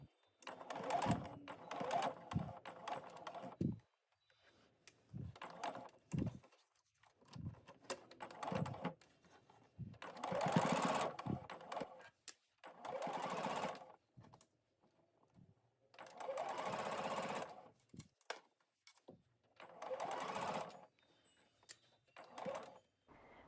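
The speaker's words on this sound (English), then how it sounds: "I am edge stitching the bias in place and removing pins along the way." A sewing machine edge-stitches bias binding onto a garment bodice, running in repeated bursts of steady needle chatter separated by short pauses while pins are pulled out, close and clear with no talking.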